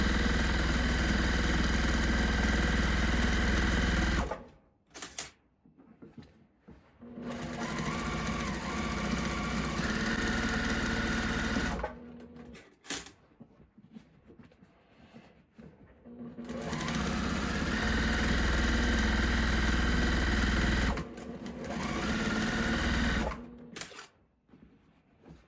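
A longarm quilting sewing machine stitches a quilt in three long bursts of steady, fast mechanical whirring, with quiet pauses between runs.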